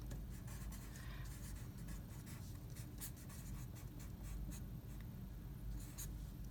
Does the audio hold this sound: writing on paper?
yes